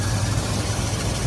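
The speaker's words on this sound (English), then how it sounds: "It's idling a little high, and if I pull on it, it drops down." An engine idles slightly high, giving a steady, loud, low rumble with even vibration throughout and no talk over it.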